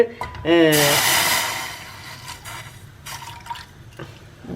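Filter coffee decoction is poured into hot palm jaggery milk for karupatti coffee. A rising gurgle of liquid filling a cup comes first, then a softer trickle fades out under faint kitchen background noise.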